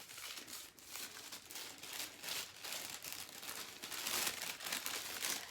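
Crinkling advent calendar packaging being handled and opened for a small cosmetic item, with close, irregular bursts of crackling plastic and paper that grow slightly louder toward the end.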